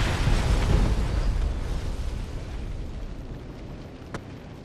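A big explosion rumbles and roars loud and close, a dense sustained boom that slowly fades over several seconds, with a brief sharp pop near the end and no talk.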